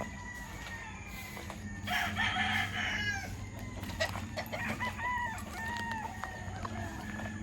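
Chickens and roosters in a backyard poultry coop cluck and crow together, with several overlapping calls at moderate distance over steady outdoor background noise.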